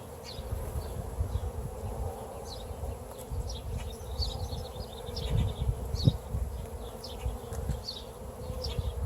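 Honeybees swarm and buzz around an opened hive, a dense, continuous drone close by, with individual bees whining past in louder bursts.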